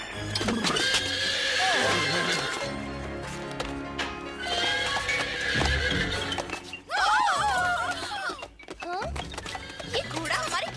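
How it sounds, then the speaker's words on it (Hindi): A horse whinnies loudly inside a kitchen in a Hindi-dubbed cartoon, its rising and falling neighs heard near the middle and end over continuous music and effects. "ये घोड़ा हमारे किचन में क्या कर रहा है?"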